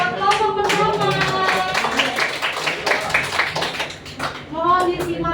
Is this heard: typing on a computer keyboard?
no